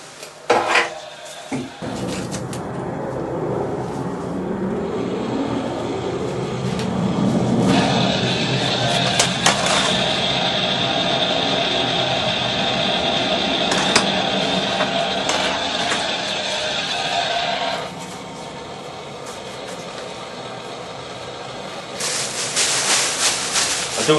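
CO2 gas flows steadily from a cylinder through a small nozzle to set sand casting cores, a continuous hiss lasting about ten seconds amid workshop handling noises.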